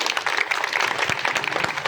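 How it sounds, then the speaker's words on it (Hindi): Dense crowd applause at a railway employees' union protest in India, with scattered sharp claps, steady and fairly loud throughout, no voices standing out. "आप इनके लिए एक बार जोरदार तालियां बजाएं"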